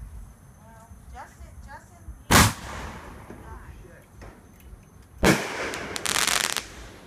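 Two sharp, loud bursts of backyard fireworks go off a few seconds apart, the second followed by a crackling tail, with people talking quietly in between.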